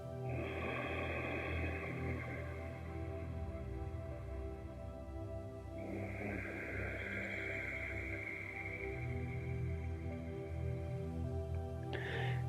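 Slow, gentle yoga breathing through a constricted throat, giving a soft, hissing, ocean-like rush on each long inhale and exhale, quiet and close over a low steady hum.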